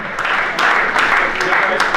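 A group at a Davis Cup team gathering claps for a newly selected tennis player, a brief burst of fairly loud applause with voices mixed in.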